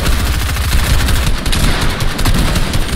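Dense, loud gunfire from a Fortnite duos cash cup match, continuous overlapping shots and blasts filling the whole stretch with no pauses.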